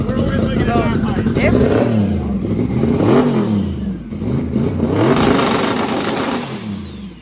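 Cleetus McFarland's race car Leroy revving loudly up close, the engine rising and falling in repeated surges with a rough mechanical edge.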